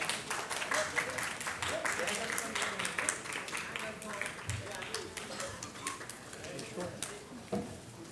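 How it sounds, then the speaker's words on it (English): An audience at a luxury project launch applauds as Sonam Kapoor is welcomed, the clapping irregular and fairly close, with a few sharp individual claps standing out. "Friends, a huge round of applause."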